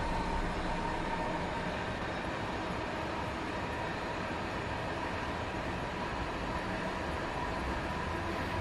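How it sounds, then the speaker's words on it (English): Steady, continuous rumble and hiss of a train rolling along the Medway Valley Line in Train Sim World 6, a faint whining rail tone running through it, with no voices. "we do have some rail singing, which is nice, isn't it?"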